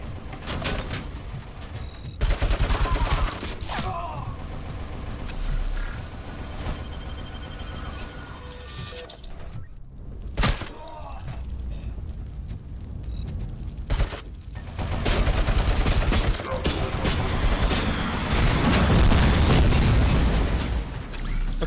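Gunfire and explosions in the video game RoboCop: Rogue City, with bursts of shots, booms and impacts over a continuous layer of game sound that run on throughout.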